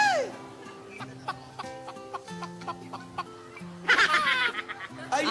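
A chicken clucks repeatedly in short, choppy bursts, fairly close and loud, while people laugh and chatter loudly in the middle of the run.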